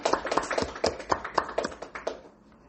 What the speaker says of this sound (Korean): 수고하신 분들을 위해서 우리 작지만 박수 한번 보내겠습니다.